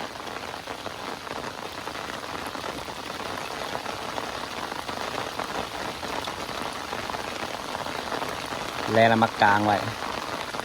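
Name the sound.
rain falling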